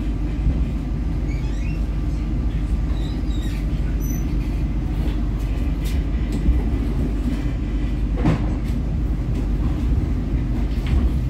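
An Indonesian passenger train, the Fajar Utama, rumbles steadily nearby as it pulls into Cirebon station, a dense, continuous rolling roar with occasional metallic squeals and clanks rising above the noise.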